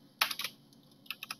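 Quiet keystrokes on a computer keyboard while setting up streaming software, two short clusters of crisp clicks separated by a pause, close and soft, with no voices.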